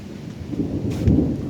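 Thunder rumbles low through steady rain during a storm at a canal-side house in Bang Nok Khwaek, Bang Khonthi, Samut Songkhram, Thailand, swelling to a louder roll near the end with no voices.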